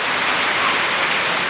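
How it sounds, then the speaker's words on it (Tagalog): Heavy rain pours in a continuous, close hiss on surfaces, loud and even throughout with no talking. "Medyo nga maulan lang."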